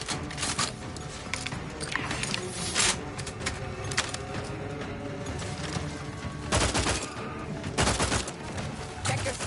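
Gunfire in The Outer Worlds 2, rapid bursts of automatic fire in loud clusters over a continuous combat din, with no talk.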